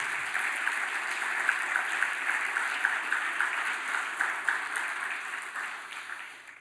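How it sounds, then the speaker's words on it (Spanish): Steady applause from a church congregation, continuous dense clapping holding at an even level for several seconds before tapering slightly at the end. "Bien fuerte ese aplauso al Señor."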